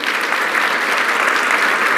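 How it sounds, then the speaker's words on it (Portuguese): A studio audience applauds in a dense, steady burst of clapping that holds at full strength from start to finish. "Eu quero uma salva de palmas para ele."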